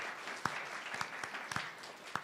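A small audience at a spelling bee championship claps quietly, with a handful of sharper individual claps standing out over a soft, distant patter of applause.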